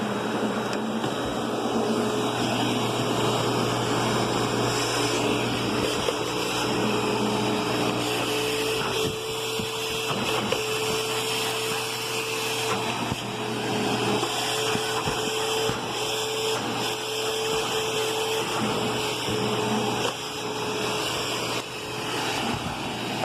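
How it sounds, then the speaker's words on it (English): A Eureka Ultra Whirlwind vacuum cleaner runs continuously with a steady motor drone and airflow roar. It sounds loud and close, with small fluctuations as it moves over the floor. "Oh, I guess I could vacuum right here."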